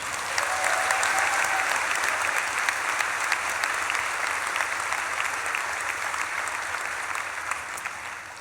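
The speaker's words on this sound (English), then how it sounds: "give yourself and the people sitting next to you a huge round of applause" A college graduation audience at an agriculture and life sciences celebration applauds, dense steady clapping filling the hall throughout and slowly tapering near the end.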